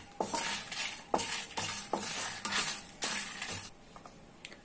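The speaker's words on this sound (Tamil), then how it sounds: "எல்லாத்தையும் சேர்த்து நல்லா கொஞ்சம் வாசனை வர்ற அளவுக்கு வறுத்துக்கணும்" Dry-roasting cinnamon, cardamom, cloves and dried red chillies in a pan for Chettinad mutton curry, with repeated scraping stirs and light sizzling in an uneven rhythm, close and moderately quiet.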